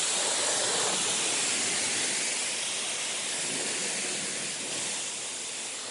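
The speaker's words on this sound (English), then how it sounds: "Okay, high pressure wax, let's give that a go." Car wash high-pressure wax spray gun blasting steadily at close range, a loud broadband hiss that holds constant for the whole stretch and eases slightly toward the end, with no talk over it.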